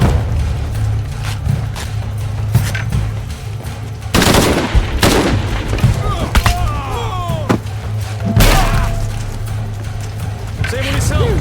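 Rapid gunfire rattles in Shadow of the Tomb Raider: loud bursts of automatic weapons and single shots over roughly eleven seconds, mixed with shouted voices giving combat orders.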